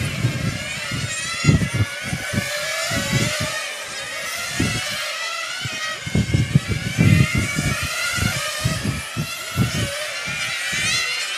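1/8-scale nitro internal-combustion RC cars race at the EFRA European Championship main final, their high-pitched engines whining and rising and falling continuously as they pass, with choppy lower-pitched rumbles throughout.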